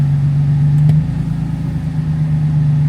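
A Nissan 350Z fitted with a cheap aftermarket exhaust drones steadily as it rolls slowly around a yard, a loud, even engine note held close throughout with only slight swells.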